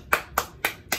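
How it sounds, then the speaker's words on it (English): Four sharp, separate hand claps spaced evenly about a quarter second apart, fairly faint and close, with no talking. "applause"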